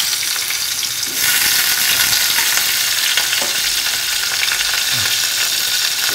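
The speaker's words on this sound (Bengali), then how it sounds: "কুমড়োটাকে এবার ভেজে নেব।" Pumpkin frying in hot mustard-style oil seasoned with black cumin in a Bengali hilsa fish dish, a steady close sizzle throughout that flares louder after the first second, with occasional stirring scrapes and no talk.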